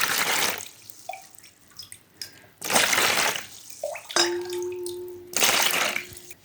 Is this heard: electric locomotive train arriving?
no